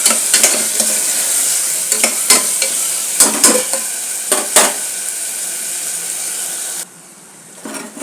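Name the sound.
tomatoes, green chillies and biryani masala frying in pan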